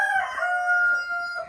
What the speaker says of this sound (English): This is a little birdie hen.